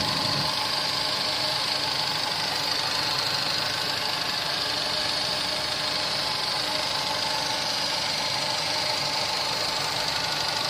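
A Ravon R3 car engine idles steadily, a loud, even mechanical hum with a fine ticking of the fuel injectors and no exhaust rumble.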